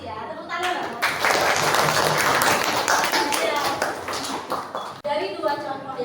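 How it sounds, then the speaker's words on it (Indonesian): Hands clapping in a classroom, a burst of applause from students that swells loud and dense for several seconds, with voices talking over and around it before it fades out. "Tepuk tangan."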